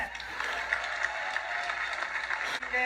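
A steady patter of clapping from a small group fills the whole stretch at moderate level, with a faint voice murmuring underneath and a brief dip near the end.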